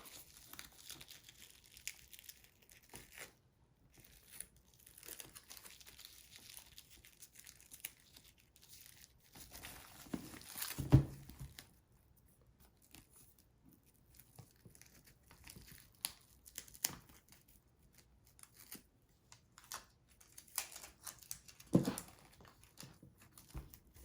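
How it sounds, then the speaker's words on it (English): Tape peels away in soft crinkling and tearing bursts from a doll tights pattern, quiet and intermittent, with a few louder rips. "we're going to remove our tape"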